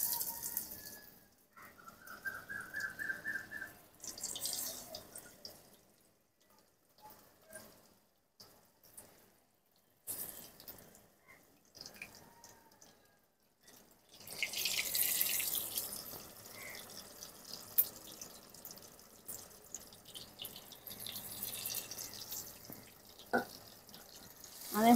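Yardlong bean lollipops dropped into white cooking oil, intermittent bursts of bubbling and sizzling that swell and fade, with quiet gaps, a louder stretch of frying midway, and faint background sounds.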